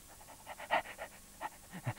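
Dog panting in quick, rhythmic breaths, soft and close, with a few louder puffs and no talk.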